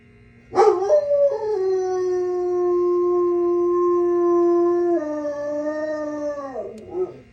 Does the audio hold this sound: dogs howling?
yes